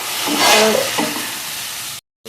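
Chicken kosha fries in a pan while being stirred, giving a close, loud, steady sizzle with scraping stir strokes, cut off abruptly near the end.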